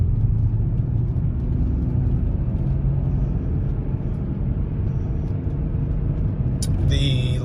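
A BMW X5 Sport Package with a rare six-speed manual pulls in third gear after the shift, its engine giving a steady, loud low drone and road rumble from inside the cabin, with a brief higher clatter at the very end.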